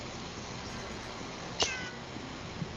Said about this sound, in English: my cat's saying hello